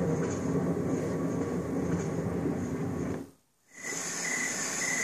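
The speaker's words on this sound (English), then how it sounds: "Train." Continuous rumbling train ambience from an Ecotones sleep machine, a steady rolling rail sound with faint clatter, pausing briefly near the end before another sound starts.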